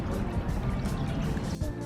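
Water pouring down at the Founder's Memorial, a continuous close splashing flow with a steady trickling rush and no talk over it.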